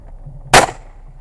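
A single sharp gunshot during a crow hunt in Cyprus, loud and close, cracking out abruptly then decaying quickly over quiet outdoor background, with no talk.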